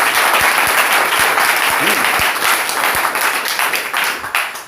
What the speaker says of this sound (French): Applaudissons encore pour le Seigneur.